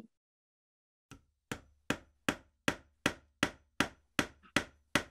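Hammering on shoes during a stage play of The Elves and the Shoemaker, about eleven sharp, evenly spaced strikes that start after a second of silence and ring out loud and close.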